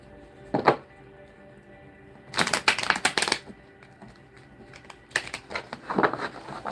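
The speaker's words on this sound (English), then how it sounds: "Let me shuffle up for you" Tarot cards being shuffled in several short bursts of riffling and shuffling, close and fairly loud, with quiet gaps between them and no speech.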